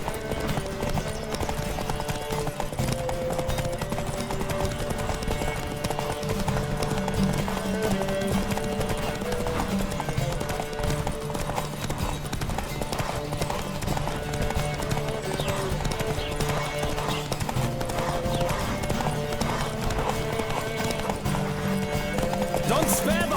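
A horse gallops steadily in The Witcher 3, its hooves drumming a continuous clip-clop rhythm for the whole stretch, with occasional neighs and game music and voices layered over it.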